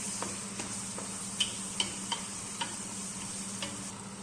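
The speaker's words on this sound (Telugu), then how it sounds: "పసుపు వేసుకొని అంతా బాగా తిప్పేసుకోవాలి" Turmeric being stirred into a potato and capsicum curry in a pan, a quiet sizzle under a steady hum, punctuated by a series of light spoon taps and clicks roughly every half second.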